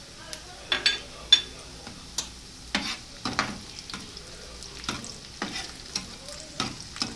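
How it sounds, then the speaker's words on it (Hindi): Chopped onion and garlic fry in a pan for pumpkin sabzi, with a steady soft sizzle broken by repeated spoon scrapes and clinks against the pan, close up. "एक मिनट लहसुन के साथ इसको फ्राई करेंगे।"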